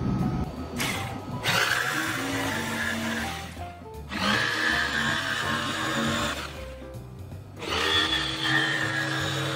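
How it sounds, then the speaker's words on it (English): A reciprocating saw or jigsaw cuts straight lines across a barrel, making three loud buzzing, rattling cutting bursts with short pauses between them, close and dominant, with no speech. "get our blade for our reciprocating saw or our jigsaw in and just cut straight lines real easy across"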